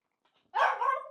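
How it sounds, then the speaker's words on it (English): A dog lets out a single short bark, close and fairly loud, after near silence, in a kitchen at breakfast. "Chen, do you want some, doggy?"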